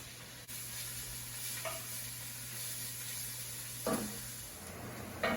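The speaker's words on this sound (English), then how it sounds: "Put some olive oil there, some onions. And fry that up or saute that for about 3 minutes." Onions sautéing in olive oil give a steady, low sizzle that runs the whole time, with a couple of brief scraping stirs near the end.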